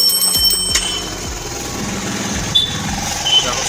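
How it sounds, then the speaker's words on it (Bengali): A Hero Maestro scooter is kick-started, a few sharp mechanical knocks giving way to an engine catching and running briefly, with a voice talking over it. "চাবিটা ফার্স্টে অন করা হলো এবং কিক মেরে স্টার্টিং করা হবে আমাদের।"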